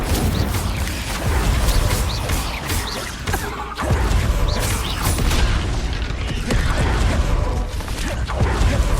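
Incendio fire spell in Hogwarts Legacy, a loud whooshing burst amid a busy clatter of combat effects, with crashes and creaks layered into a dense, continuous mix.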